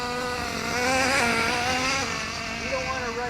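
A Kyosho USA-1 nitro RC monster truck engine buzzes at low throttle during break-in, a steady raspy drone that rises and falls slightly in pitch, with a voice talking over it.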